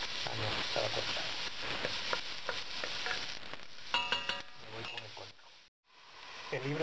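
Vegetables sautéing in hot oil in a pan for Spanish rabbit rice, a steady close sizzle with occasional stirring scrapes and a metallic clink, a brief quiet gap near the end.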